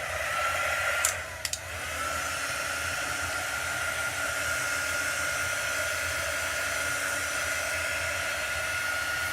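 A hair dryer blows steadily on chalk paste laid over an apothecary cabinet, a continuous even hiss that begins loud and close and runs without a break to the end, with one small click near the start.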